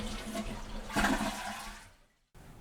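A bathroom toilet is flushed with the handle held down so the tank drains fully; a rushing, gurgling swirl of water runs loudly, fades as the tank empties, then cuts off.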